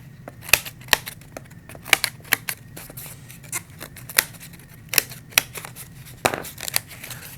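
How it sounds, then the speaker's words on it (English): Cutters snip a one-inch slit around a bouquet collar: a series of sharp, close scissor-like snips at an irregular pace over a quiet background, with no talk. "take your cutters and cut 1 inch in all the way around"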